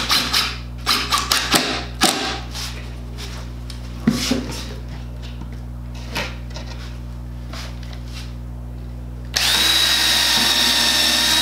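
A power drill bores holes in a wooden snake cage in short, loud bursts with pauses between, plus clatter of handling; a steadier tool whine takes over near the end.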